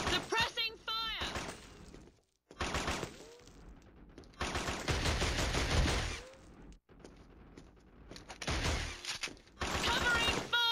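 Heavy suppressing gunfire rattles in long automatic bursts in the Killzone HD video game, broken by short pauses, with game voices shouting over the shooting.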